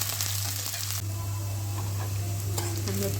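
Onions browning in a pan for chicken gravy hiss in a continuous close sizzle, with stirring scrapes and a low steady hum underneath, no voices.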